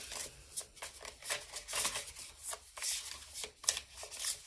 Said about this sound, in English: So I'm just gonna again shuffle and see what comes out.